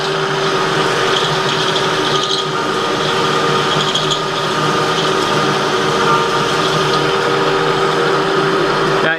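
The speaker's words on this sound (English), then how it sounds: "And get back to doing that peck drilling." A steady, loud high-pitched whine of a drill bit peck drilling into the locking bar of a folding shovel, with only slight changes in pitch throughout.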